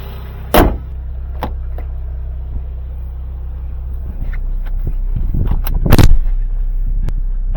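A 2019 Kia Stinger 2.0L is driven into a repair shop. A steady low engine rumble hums throughout, punctuated by a couple of sharp clunks and a rising surge near the end.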